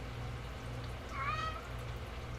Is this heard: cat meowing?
yes